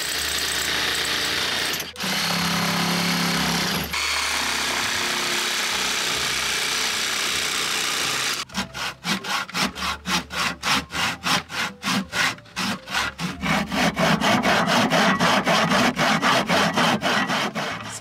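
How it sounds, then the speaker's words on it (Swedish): A handsaw cuts through wood on a balcony with quick, regular back-and-forth strokes after a stretch of rougher scraping, fairly close and loud. "Jag behöver i alla fall såga lite på... balkongen nu."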